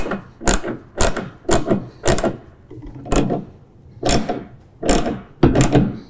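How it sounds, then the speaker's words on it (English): A latch bracket being tightened on a John Deere mower poly cart, heard as a series of sharp, close ratcheting clicks in bursts, roughly two per second, with no talking. "we will get our latch bracket here tightened down as our final step in setting up"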